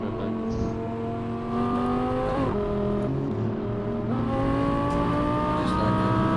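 A BMW M4 G82 in Assetto Corsa revs and shifts on a cruise, its engine note rising steadily and then dropping sharply at each gear change, about two clear shifts, loud and close with no talking.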